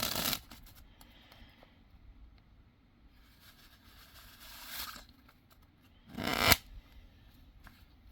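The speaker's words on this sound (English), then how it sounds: "Let's try to Pharaoh shuffle the cards as well." Bicycle playing cards are shuffled in short crisp bursts, including a Pharaoh shuffle, one at the start, a softer one midway and a louder riffle near the end, with quiet handling between.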